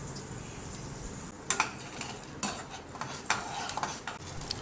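Ground onion paste sautés in oil while a metal spoon stirs and scrapes the pan, making irregular clinks and knocks over a soft, steady sizzle. The sound is close up with no talking.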